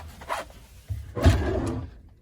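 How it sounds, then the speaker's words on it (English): A drawer in a 2007 Pleasure-Way Lexor-TS Class B camper van slides and knocks shut in two quick, close scraping thumps, the second louder and longer. "Another drawer."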